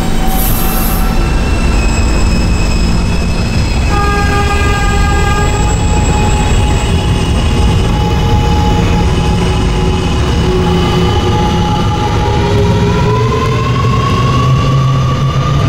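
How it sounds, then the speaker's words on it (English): A B-line subway train rumbles loudly along the tracks, wheels squealing in long sustained tones over a heavy, constant roar. "This is a Catlin-bound B train."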